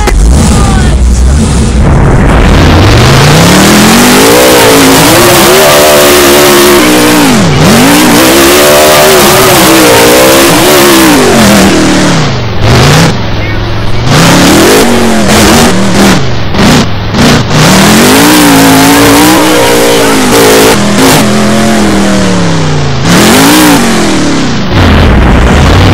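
A monster truck at a Monster Jam event revs hard again and again, its loud, close engine roar climbing and dropping in repeated surges over about twenty-five seconds, with voices faintly beneath the din.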